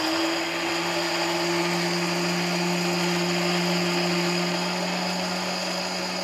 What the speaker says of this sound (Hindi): हम इसको तीसरी बार मिक्सी में पीसे हैं